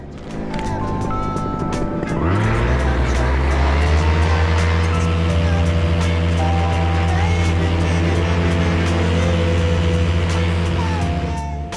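A powered paraglider engine starts low and quickly revs up to a loud, steady, close buzzing drone with strong harmonic whine, holding at high power through a fast crosswind takeoff beside a crop field.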